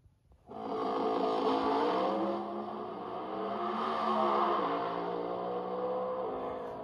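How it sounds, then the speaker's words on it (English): A pro stock race car engine at full power, played back as a simulated sound from MSD 6AL-2 programmable ignition box software. It gives a loud, continuous roar with rising and falling pitch, alone and without talk. "that's like a pro stock running full on"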